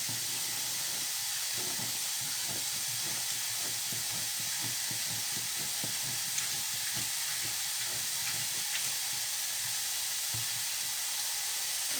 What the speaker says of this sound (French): Je vais venir un peu déglacer avec mon jus de citron.